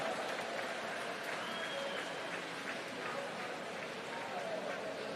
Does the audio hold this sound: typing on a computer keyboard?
no